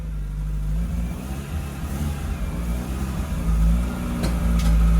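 A project car's engine revs loudly and steadily as the car finally gets drive, a deep continuous roar that swells toward the end.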